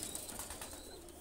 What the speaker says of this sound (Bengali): কবুতর ভয় পাচ্ছে